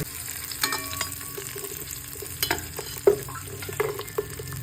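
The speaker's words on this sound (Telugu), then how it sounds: "క్యారెట్, ఆనియన్ వేసుకొని బాగా ఫ్రై చేసుకోండి." Carrot and onion frying in a pan, a close, continuous sizzle with intermittent spatula scrapes and taps while stirring, no talk.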